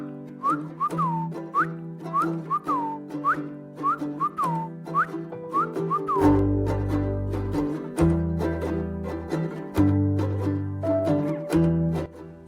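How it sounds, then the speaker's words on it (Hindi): A person whistles a slow, lilting tune while walking, hands tucked in jacket pockets; the melody runs in short repeated phrases over a steady low background hum. "धीरे धीरे सीटी बजाने लग गया"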